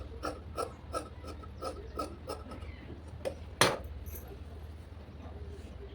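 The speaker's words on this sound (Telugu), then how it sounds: "ఈ ఎడ్జ్ అయితే కట్ చేసుకుంటున్నాను ఎందుకంటే ఇది స్ట్రైట్గా లేదనమాట" The uneven edge of dress fabric is trimmed by cutting, a run of crisp, rhythmic crunching snips about every half second. One louder, sharper cut stands out near the middle.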